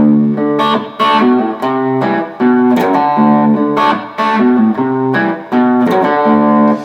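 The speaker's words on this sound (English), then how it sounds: "I will do that little ghost note bounce on the 4th string instead." A distorted electric guitar in open D tuning plays a repeating riff with short bouncing ghost notes on the fourth string between sustained chords, loud and alone.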